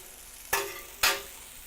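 Country sausage patties sizzle steadily in a pan on a home stove, with two sharp, louder bursts of frying about half a second apart before the sizzle settles back to a low, even hiss.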